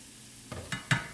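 Crawfish and roux dropped into a hot pan for a New Orleans-style crawfish pie, giving three short bursts of sizzle and stirring that swell briefly and fade, close and fairly quiet, with no talking.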